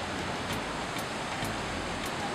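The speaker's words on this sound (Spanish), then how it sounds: "El ruido del agua cayendo se siente cada vez con más fuerza." Iguazú Falls on the Paraná River, a steady broadband roar of falling water heard from a walkway, continuous and loud with no voices.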